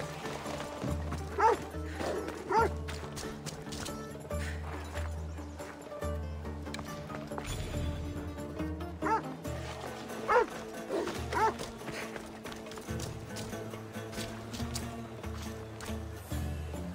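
In Assassin's Creed Odyssey, intermittent dog barks and scuffling attack noises rise over a steady, pulsing game music bed, with clopping hooves mixed in, spread unevenly across a long stretch.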